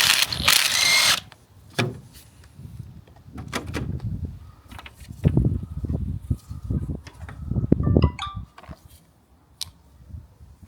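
A power tool spins off an 18mm strut top nut on a Vauxhall Corsa: one loud burst up close, followed by scattered clanks and mechanical rattles from the workshop.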